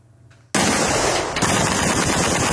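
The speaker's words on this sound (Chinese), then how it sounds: "空中机关枪红色火光格外刺眼，乌克兰士兵持续拿起枪往一片黑暗中狂轰" Machine gun fire rips out at night on the Ukraine front line, a sudden loud, continuous burst of rapid shots that starts after a short quiet lead-in and hammers on without pause, close and harsh.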